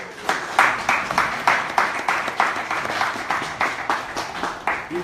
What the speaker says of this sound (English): You can keep the applause going